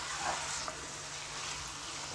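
Soft sizzling and scraping as milk powder is stirred into carrot halwa in a pan, a quiet, steady hiss with faint stirring sounds throughout and no talk.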